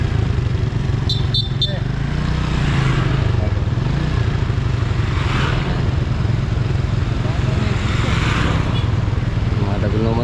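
Motorcycles running close by, a continuous low engine drone with rumbling, sputtering texture throughout, with a few sharp clicks early on and occasional outdoor noise layered over it.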